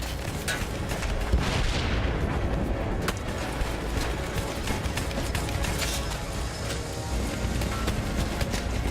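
Battlefield 1 game combat: a dense, continuous barrage of gunfire aimed at an airship, with rapid overlapping shots and booms under constant loud battle noise.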